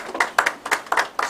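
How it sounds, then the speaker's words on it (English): A small group claps at a political pledge event, several hands beating in a quick uneven rhythm, fairly close and moderately loud, with no talk over it. "Let's give him a round of applause,"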